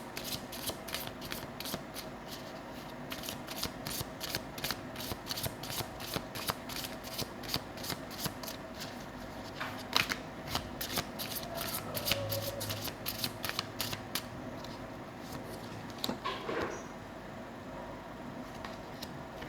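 Tarot cards are shuffled close up in a steady, crisp run of riffling and flicking that lasts the whole stretch, with no talking.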